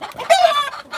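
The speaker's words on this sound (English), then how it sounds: "The chicken battle's going on here." Chickens squabbling at close range, loud agitated clucks breaking into a short crow-like squawk, all packed into about a second with no voices.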